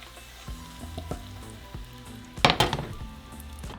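Onion, garlic and chiles sauté in a pan, giving a soft steady sizzle with scattered taps and clinks of utensils, then a brief louder burst of crackling and stirring midway.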